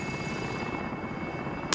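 Helicopter rotor and engine drone in Call of Duty: Modern Warfare, a steady loud thrum throughout with a brief sharp click near the end.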